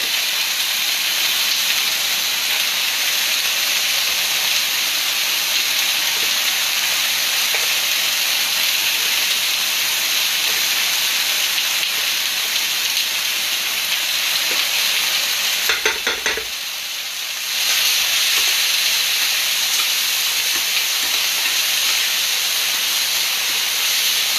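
Pepper chicken stir-frying in a hot pan gives a loud, steady sizzle with hissing steam, holding constant throughout, with a brief dip where the pan is stirred and a few scraping clicks.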